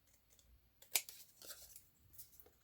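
Scissors snip through paper labels in a few quiet, close cuts, the sharpest near the start, with light paper rustling between them and no talk.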